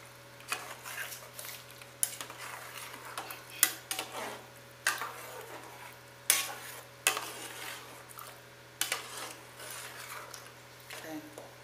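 Food being stirred and turned in a frying pan while cooking a Nigerian dish, with repeated scraping strokes over a soft sizzle and a steady low hum, fairly quiet and close.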